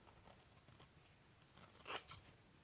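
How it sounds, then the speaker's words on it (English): Scissors snip through paper while a 3D tunnel book journal is being made, giving a few quiet, close cuts spread over a couple of seconds with a brighter crisp snip near the end. "I'm just going to cut these"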